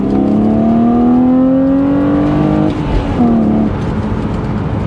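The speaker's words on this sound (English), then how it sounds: "you can't hear the downshifts at all, but now when you do a rev match" A BMW Z4 fitted with a sound generator mod revs during a rev-matched downshift. The engine note is loud and close, climbing steadily, dropping off, then blipping up again, with no talk.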